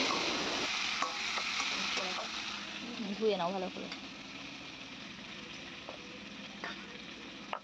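Boiled potatoes fry in a pan for a curry, giving a continuous close sizzle with occasional stirring knocks, while a person speaks briefly over it.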